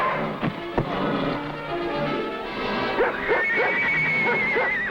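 Horses whinny and neigh in rising, wavering calls, spooked by a dog on a cattle-drive trail, with loud thuds and commotion in the foreground underneath.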